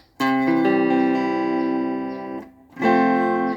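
A guitar is strummed with reverb added, two sustained ringing chords, the first holding and fading for over two seconds before a second chord rings out, bright and close with no talking.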